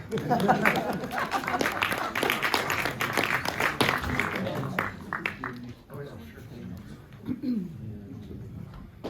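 Audience applause for a baby at a documentary film talk in Hamburg, a burst of clapping mixed with chatter and voices that fades after several seconds.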